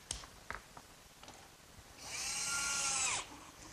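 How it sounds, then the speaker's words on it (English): An electric jigsaw cutting a slot in a workbench: a few faint knocks, then a loud, buzzing cut running for just over a second before stopping abruptly, close up. "my electric jigsaw sure makes quick work of finishing up that slot."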